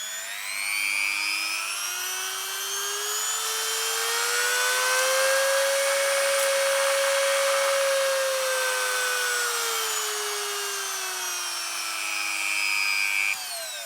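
A Tacklife 135W multi-functional rotary tool running alone, its high motor whine climbing in pitch, holding steady, then easing back down over about fourteen seconds.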